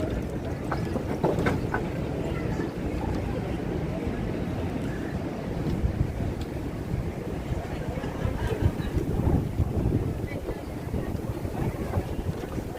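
Steady wind buffets the microphone during an evening walk on New York City's High Line, a continuous low rumble with gusts swelling and easing throughout.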